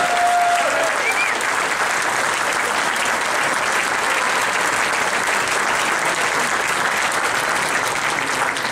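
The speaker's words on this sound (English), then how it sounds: "please give a very, very warm applause to our candidate from the 1st Congressional District" An audience at a Republican political forum applauds for a congressional candidate, with a steady, dense wash of clapping that holds for several seconds and a faint voice heard briefly at the start.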